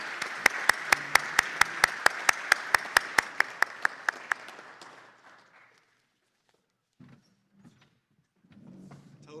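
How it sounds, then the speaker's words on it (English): A meeting audience claps, sharp and close at first with prominent rhythmic claps, then the applause thins and fades out, followed by quiet rustling and faint movement. "Let's give them a round of applause for Hank, Daniel, and Gabe."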